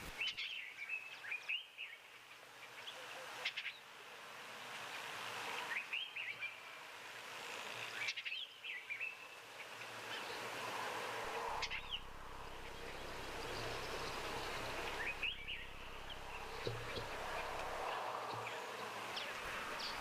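Bush birds call in a steady outdoor chorus, with repeated short chirps and whistles rising over a constant buzzing, insect-like background hum. No voices are heard.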